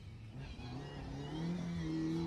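A small Mini rally car revs hard on an asphalt stage, its engine note climbing steadily as it approaches over a couple of seconds. The sound is moderately distant, with no talk over it.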